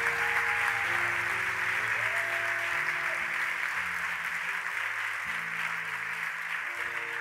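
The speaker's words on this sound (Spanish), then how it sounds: "¡Aplaudile al Señor!" A church congregation applauds steadily throughout, a dense continuous wash of clapping under sustained organ or keyboard chords, with no voices.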